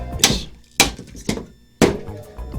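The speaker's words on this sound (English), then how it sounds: "I chose to do the right thing to do, which was just to rivet the fucking thing in" Riveting a part in a workshop, with four sharp impacts at irregular intervals, each a close, loud thunk and clack.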